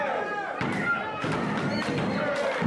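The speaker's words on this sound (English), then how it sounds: "Dreamer trying to get the crowd behind him. Pounding on that mat." A wrestler pounds on the wrestling mat to rally the crowd, four or five evenly spaced heavy thuds under a steady crowd roar and an announcer's commentary.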